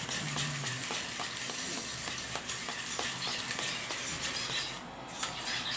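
Gratin de bœuf mixture being stirred with a whisk in a bowl, a steady run of scraping, swishing strokes with regular ticks, close and fairly even throughout, with no talk.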